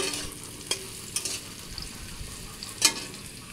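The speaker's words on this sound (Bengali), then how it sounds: "আর এখানে আলু ভাজি, এই যে কাবলি ছোলা দিচ্ছি, কাবলি ছোলাগুলো আলুর সঙ্গেই ভেজে নেব হালকা করে" Potatoes and kabuli chickpeas fry in a pan with a soft steady sizzle, broken by a few sharp scrapes and clinks as a spatula stirs them, fairly quiet and close.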